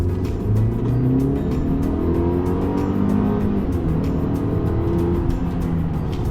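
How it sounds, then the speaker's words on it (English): A 2020 Mercedes-Benz GLE 350 SUV accelerates hard from low revs, its engine building into a steady, rising roar that fills the whole stretch with no talking. "Now on this U-turn, I'll do a quick acceleration test to show you guys what you can expect."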